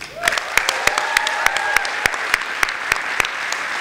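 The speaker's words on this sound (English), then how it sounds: "We're gonna clap, don't worry." Applause for graduating seniors at a high school honor roll awards ceremony, with sharp, distinct claps spaced over a continuous wash of clapping, fairly close and loud throughout.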